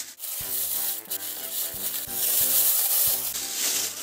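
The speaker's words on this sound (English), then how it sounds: "On to unwrap our pudding." A towel-wrapped microwave Christmas pudding is unwrapped, with close, steady rubbing and rustling of cloth plus repeated soft thumps in an even rhythm.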